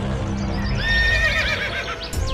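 A horse neighs in an animated story, a loud, shrill whinny that rises and wavers over a steady low rumble for about a second before trailing off.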